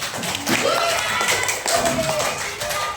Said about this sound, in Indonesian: Masih tepuk tangan untuk kakak.